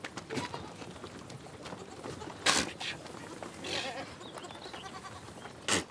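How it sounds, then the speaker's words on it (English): Goats bleat a few times, close by, while their young suckle in the morning at Al-Ayn Oasis, over a soft outdoor background with faint rustling. "Every morning, Al-Zalfa Al-Subi helps her goats suckle their young."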